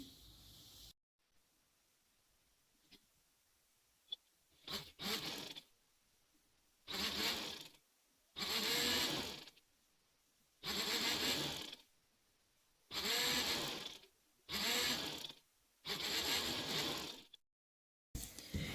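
Bursts of a sewing machine stitching an umbrella frock skirt to its bodice with a half-inch seam margin, seven or eight close, even runs of rapid whirring separated by short quiet pauses.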